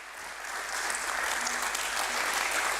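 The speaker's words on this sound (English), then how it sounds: "A big round of applause for Neptune's Logitek achievement" Steady applause from an audience at a stock exchange listing ceremony at the BSE. The clapping is continuous and moderately distant, swelling slightly and holding at an even level with no talking.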